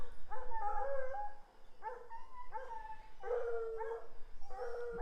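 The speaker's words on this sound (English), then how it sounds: "with all this dog barking in the background" A dog barks and howls repeatedly in drawn-out, wavering bursts, fairly close in a garden, with brief gaps between calls.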